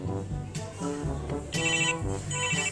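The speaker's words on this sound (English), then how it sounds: "Naisipan ko na palitan yung ringtone niya into Barbie toy ringtone." Barbie toy ringtone playing on a phone, a bright electronic tune with bouncy repeating notes, fairly loud and close, with speech-like sounds mixed in.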